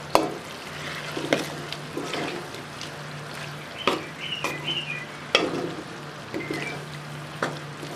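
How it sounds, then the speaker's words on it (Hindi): Potatoes fry in a pan with a steady low sizzle, broken by repeated scraping and clattering as a spoon stirs them, heard close with no talk. "आलू को अच्छे तरीके से फ्राई करेंगे।"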